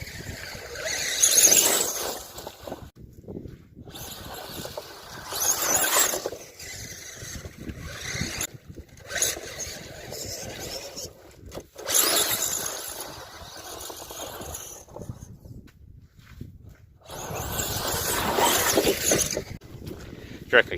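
A 3S brushless FTX Outback Fury RC mud truck drives past in bursts, its motor rising and falling as it passes several times outdoors, while people talk throughout.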